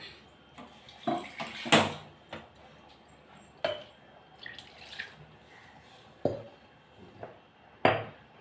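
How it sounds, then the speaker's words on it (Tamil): Water splashes and pours in short bursts into a cooking gravy, mixed with light clinks of a pot or utensil, close by in a quiet kitchen. "இன்னும் கொஞ்சம் தண்ணி ஊற்றிக்கலாம்."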